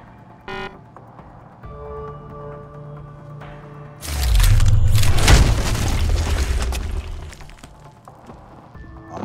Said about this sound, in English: Wall punching. See how much sound it makes.